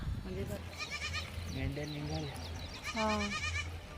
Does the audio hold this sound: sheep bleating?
yes